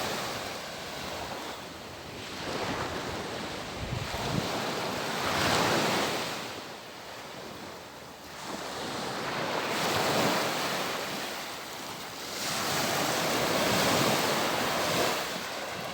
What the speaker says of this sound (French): Elle s'est endormie avec le bruit des vagues